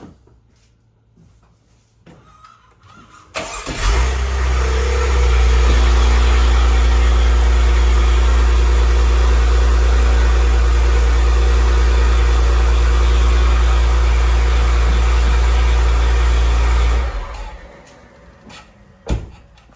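A car engine on a battery cranking test with a handheld battery and starter tester cranks and catches, then runs loud and steady up close for about thirteen seconds before abruptly falling back to a quiet room.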